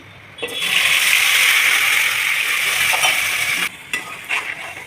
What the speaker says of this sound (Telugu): ఇది తిప్పుతుండాలి, లేకపోతే అడుగంటుతుంది.